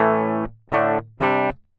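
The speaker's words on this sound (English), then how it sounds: "I have a duplicate DI guitar track recorded, and it sounds like this" Three short strummed chords on a clean, unprocessed electric guitar recorded direct (DI), each ringing briefly and stopping, with pauses between them.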